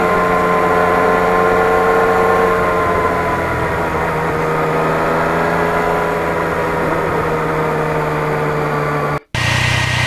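A 2020 Yamaha MT-09 motorcycle's engine drones steadily while riding during break-in, a loud continuous tone with layered harmonics held in a higher gear, cut briefly by a dropout near the end.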